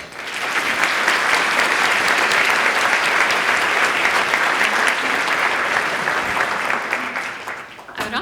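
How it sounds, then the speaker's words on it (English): An audience at a 2020 Martin Luther King Jr. event hosted at Williams High School applauds students and teachers with loud, steady clapping that builds quickly, holds for several seconds, then fades. "Please join me in applauding these talented students and teachers."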